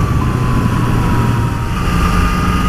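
Yamaha MT-09 SP motorcycle, a 2018 model with a stock exhaust, riding on damp roads: a steady, loud engine drone with a low rumble and a faint high whine, continuous with no talking.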